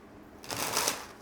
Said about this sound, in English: This deck is really hard to shuffle.